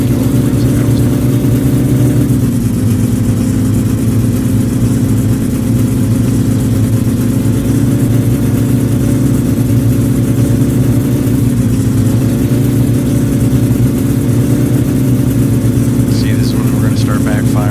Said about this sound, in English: you're hitting those roads hard, and you're revving through this range, kind of, right, 40 to 70